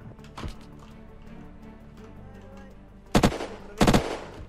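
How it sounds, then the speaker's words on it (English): Video game gunfire blasting out a roof: a faint early shot, then two loud, sharp bursts close together near the end, each ringing out over a low background rumble. "They shot the roof out!"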